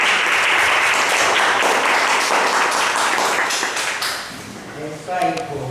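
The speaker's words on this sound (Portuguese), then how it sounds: "Uma forte salva de palmas para o Senhor Jesus" Loud, sustained church congregation applause after a worship leader's call, many hands clapping together for several seconds before tapering off as a voice begins speaking.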